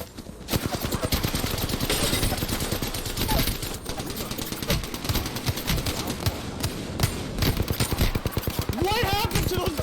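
Rapid automatic gunfire from a shooter video game, with dense bursts of shots continuing throughout at close, loud level, while a person talks excitedly over it.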